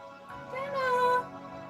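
A house cat gives one clear, rising and falling meow, close and fairly loud, over a quiet background.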